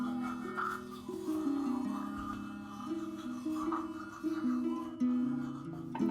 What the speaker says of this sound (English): the toothbrush, 2 minutes of that familiar mechanical buzz